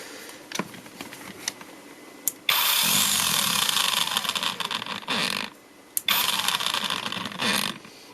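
A Makita DUC302Z electric chainsaw motor, which had been stalling and lacking power, runs after its phases are swapped. It whirs up in two loud bursts of several seconds each, separated by short pauses and faint clicks, close and with no voices.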